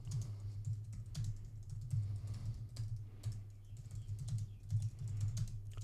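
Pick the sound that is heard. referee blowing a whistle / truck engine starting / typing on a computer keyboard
typing on a computer keyboard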